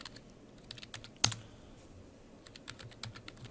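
Keys clatter in quick irregular clicks as a terminal command is typed on a computer keyboard in Ubuntu Linux, with one sharper louder keystroke partway through and no voices.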